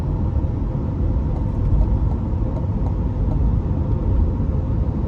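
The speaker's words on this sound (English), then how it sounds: "Very quick and crisp shifts, of course." A 2020 Corvette C8 3LT Z51 in track mode drives with a steady, loud engine rumble that fills the whole stretch, its quick gear shifts buried in the continuous low drone from inside the car.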